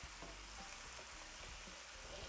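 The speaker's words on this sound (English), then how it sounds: "we're just making sauteed beautiful tomatoes" Tomatoes sautéing in seasoned Wagyu beef drippings make a faint, even hiss of frying, short and steady with no talk.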